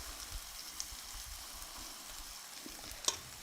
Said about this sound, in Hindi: अब हम गैस के फ्लेम को बिल्कुल लो करेंगे और इस तरह से हम अपने बैटर को डालेंगे